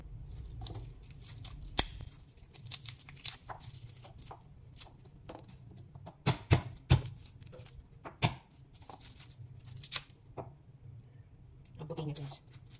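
Freshly harvested white garlic cloves are peeled by hand, giving soft crinkly tearing and papery scratching sounds, quiet and close, under a speaking voice.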